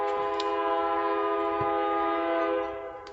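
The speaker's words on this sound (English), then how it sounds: "as the train horn honks" A train horn sounds outside through open windows, a sustained, chord-like blast heard from a moderate distance that holds steady, then fades near the end.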